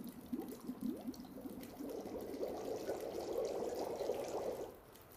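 Water pours and trickles steadily into a container while collecting it in The Long Dark, a continuous liquid filling sound at moderate level that fades out at the end, with no talking.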